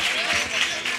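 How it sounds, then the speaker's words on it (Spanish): Audience applause at a carnival comparsa show, a steady wash of clapping from a crowd filling the whole second with no letup, voices mixed in. "Un fuerte aplauso para el aplauso para ellos"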